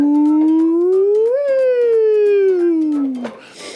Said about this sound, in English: These things have really, really loud horns. They even have sirens.